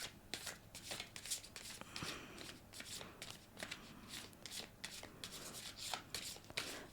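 Large tarot cards being shuffled by hand in a continuous, fairly quiet stream of papery riffles and slides, with soft taps throughout and no speech.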